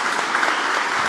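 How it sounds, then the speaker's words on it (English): Audience applause at a STEM convening at the White House: a steady, dense wash of many hands clapping, fairly close and even throughout the brief burst, with no voices standing out. "That deserves a round of applause, man."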